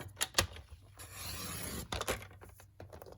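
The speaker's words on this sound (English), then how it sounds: "you could grab your trimmer and put this on here" A paper trimmer slicing cardstock for a gnome Christmas card: a brief scrape, then a long steady rasping glide of the blade, then a few short clicks and rubs nearby, with no talking.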